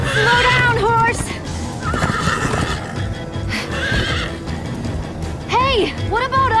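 A horse in the Minecraft Story Mode game whinnies loudly, with one neigh at the start and more near the end, over a busy rumbling background of hooves and game music.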